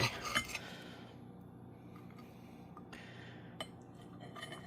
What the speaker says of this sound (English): let's cut a slice off and give it a try